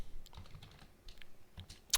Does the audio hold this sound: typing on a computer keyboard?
yes